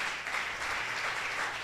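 Congregation applause during a Spanish-language church sermon, a dense, even wash of clapping that holds steady throughout, fairly distant and with no voices over it.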